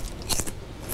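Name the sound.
biting into crispy fried seaweed chips (gim-bugak)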